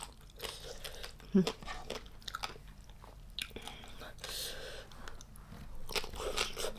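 Crispy dried red shrimp bitten and chewed close to the mic, a few sharp crunches followed by softer chewing, with a voice speaking briefly.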